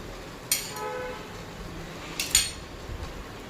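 A spoon stirs milk into beetroot and carrot halwa in a pan, with two sharp metallic clinks against the pan about two seconds apart over a quiet background.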